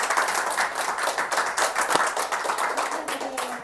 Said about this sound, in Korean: 박수 한번 다시 한번 해주시기 바랍니다